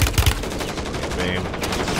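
Rapid automatic gunfire in Warzone ranked on Fortunes Keep, a burst of loud close shots at the start followed by a continuing busy clatter of game sounds.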